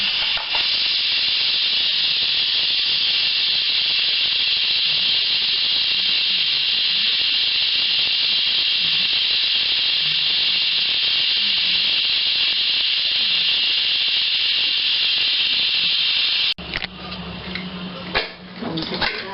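Steady broadband hiss of a pot of soup steaming on the stove, continuous and fairly loud, ending with a brief clatter near the finish.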